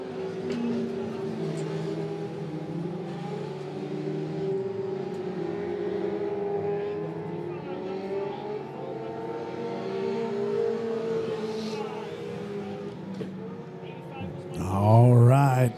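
Race cars circle the Monett Motor Speedway dirt track during a heat race, their engines a steady, blended drone behind continuous commentary, with a louder burst near the end.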